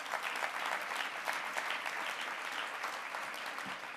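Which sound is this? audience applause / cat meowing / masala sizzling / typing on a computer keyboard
audience applause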